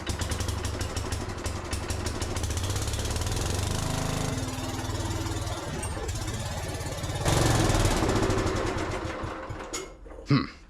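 A Gravely walk-behind tractor engine sputters to life and runs with a loud, rapid, knocking putter, surging louder as it revs near the end before a sharp bang and sudden quiet.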